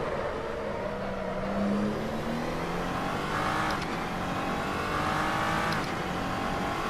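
A Glickenhaus SCG 003C race car engine in the Assetto Corsa racing simulator drones loudly and steadily, its pitch rising and falling through gear shifts and acceleration, with no talking.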